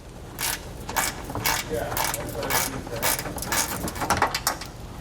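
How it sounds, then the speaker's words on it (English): Ratchet wrench backing out 10mm screws under the front air dam of a 2019 Ram 1500 Classic, a close, rapid clicking that comes in repeated bursts of pawl ticks. "There's going to be a 10mm screw on each side that we're going to have to remove."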